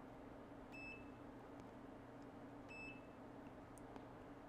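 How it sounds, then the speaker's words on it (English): Two short, high electronic beeps from a battery management system programmer during an iPhone 11 battery replacement, about two seconds apart, faint over a low steady background hum. "and then you'll hear a beep."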